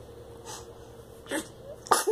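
An infant lets out small sneezes, soft and close, three short bursts over a quiet indoor hum.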